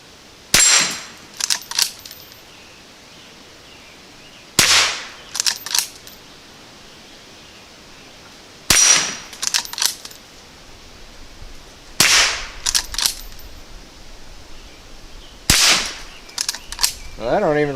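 Five sharp gunshots from a Henry Mare's Leg ring out at a blast back target, each loud crack followed by a brief ringing clatter, spaced about four seconds apart.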